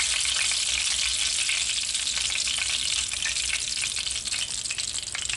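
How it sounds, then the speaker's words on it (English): Loud, continuous sizzling and crackling of spotted bass frying in hot oil, steady throughout with no voices. "I love that sound of oil sizzling."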